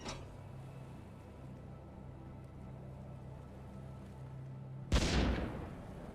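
A ship turret in the Stormworks video game fires one loud, sharp blast near the end, which trails off quickly after a steady low mechanical drone.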